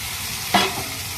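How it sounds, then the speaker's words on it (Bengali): Fried chicken tipped into a pan of sizzling masala and stirred: a sharp burst of frying hiss as it goes in, then a steady low sizzle. "এবার ভেজে নেওয়া চিকেনটা আমি এর মধ্যে দিয়ে দিচ্ছি"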